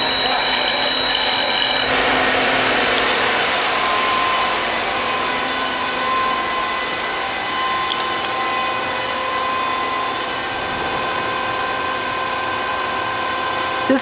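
The live tools in the top turret of a Citizen E32 CNC Swiss lathe run with a steady, loud mechanical whir and high-pitched tonal whine, continuous throughout with a slight change in pitch early on.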